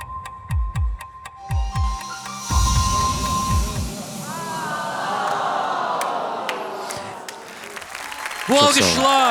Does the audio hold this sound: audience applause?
yes